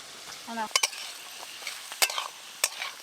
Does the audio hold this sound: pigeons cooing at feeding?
no